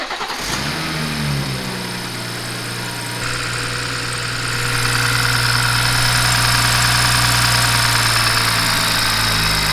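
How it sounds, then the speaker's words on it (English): A car engine cranks and catches, then settles into a steady idle that rises slightly and holds a louder, even hum. "Let's start it up, make sure I did it right."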